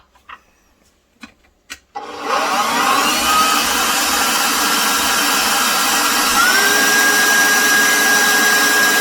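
A stand mixer whipping 1.25 cups of really cold heavy cream starts after a few light clinks, then runs as a steady, loud, close whir with a faint whine riding on top.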